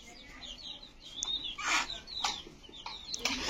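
Farmed chickens kept together with other birds cluck and chirp close by in a rural yard, giving short, scattered, irregular calls of moderate loudness over a low background hum.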